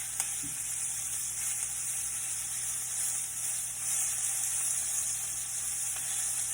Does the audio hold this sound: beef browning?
yes